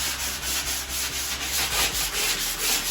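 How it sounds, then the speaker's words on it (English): A medium grade sander smooths a spackled interior wall, producing a continuous rough rasping scrape in repeated back-and-forth strokes, close and fairly loud, with no talking. "we'll go in there with a medium grade sander and just kind of smooth everything out."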